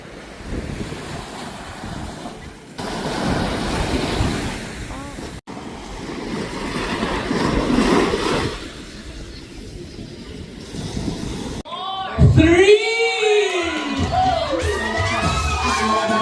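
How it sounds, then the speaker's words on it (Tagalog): Sea waves break on a La Union beach at sunset, a loud continuous surf roar with wind buffeting the microphone, surging in rolling swells, joined near the end by chatter and bright shouting voices. "Nakikinig ng alon ng dagat."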